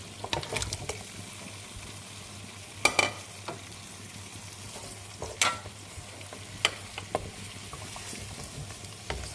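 Chicken pieces go into a pan for Javanese-style soy sauce chicken and are stirred, giving scattered clanks and scrapes of a utensil over a low, steady frying sizzle.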